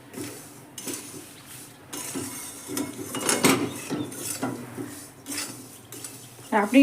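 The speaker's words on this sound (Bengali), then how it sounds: "একটু ধৈর্য ধরে যদি লো ফ্লেমে ভাজা হয় তাহলে খুব সুন্দর চিড়েটা মুচমুচে হয়" Flattened rice (chira) with peanuts frying in a pan over a low flame, with repeated metal clinks and scrapes of stirring over a faint, steady sizzle, close up with no talk.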